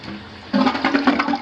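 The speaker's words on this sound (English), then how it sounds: "This commode flushes." A toilet flushing in a 1990s North Texas house bathroom, a short close rush of swirling water that starts abruptly after a quiet moment.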